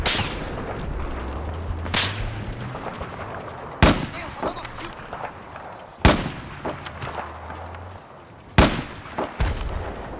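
Several sharp, loud gunshots in Battlefield 4 ring out at irregular intervals with echoing tails, mixed with low game effects; no clear talking during the shots.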